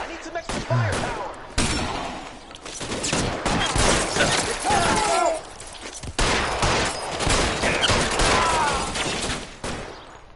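Repeated loud bursts of gunfire and volleys in a shootout in the game L.A. Noire, dense and continuous across the clip with brief breaks, and voices and game sounds mixed in underneath.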